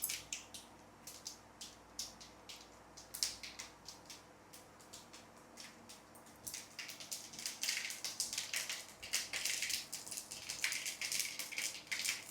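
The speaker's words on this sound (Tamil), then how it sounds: "கடுகு போடுறேன்." Mustard seeds dropped into hot oil in a pan on a home stove, crackling and popping in quick irregular bursts that grow busier, close and soft.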